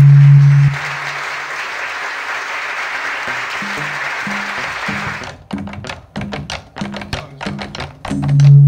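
An audience at a Latin American percussion workshop event claps in steady, loud applause that fades, then percussion hits and drum strikes begin in an irregular rhythm, with no speech.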